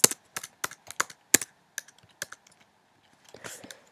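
Computer keyboard typing in a quiet room: a quick run of crisp, close key clicks in uneven bursts, thinning out, then a softer cluster of taps near the end, with no talking.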